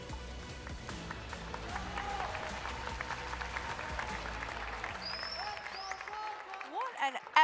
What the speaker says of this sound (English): Loving the fact that the crowd are actually making some noise, getting involved, showing some support for their favorite teams here.